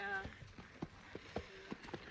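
A horse walks past on a hiking trail, its hooves clopping in a steady rhythm at moderate distance while people talk over the passing steps.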